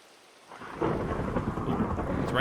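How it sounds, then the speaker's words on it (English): Minecraft rain and thunder on a multiplayer server swell in from quiet into a steady downpour, a low rumble of thunder rolling beneath the dense hiss of rain, with no voices. "It's raining."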